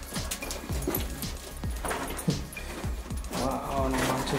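A dog in a cave near an abandoned Nevada mine makes repeated short yips and whimpers in a quick uneven rhythm, close by and echoing a little, over a low rumble, with people talking at times.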